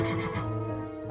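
A single horse whinnies in one sustained, wavering neigh that lasts about a second and is heard alone at close range.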